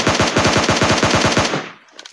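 Automatic gunfire in PUBG Mobile Lite, a loud, fast burst of about a dozen evenly spaced shots that stops abruptly and leaves a short quiet tail.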